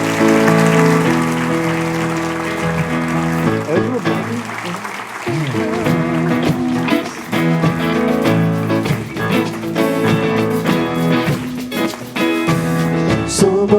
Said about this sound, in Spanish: Vamos a darle un aplauso al Rey de Gloria